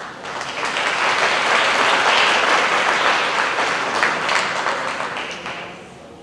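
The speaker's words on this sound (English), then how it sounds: "let's give another round of applause to all of the students and all of their families" A crowd at a Miami-Dade County Public Schools District 3 town hall claps steadily in a broad, sustained round of applause. It swells early, holds for several seconds and then fades away.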